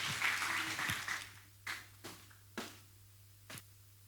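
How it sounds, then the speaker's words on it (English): Audience at a public-private partnership infrastructure summit in Nigeria gives light applause as a speaker comes forward, a brief burst of clapping that thins into a few scattered, faint claps. "Please a round of applause for her as she comes forward."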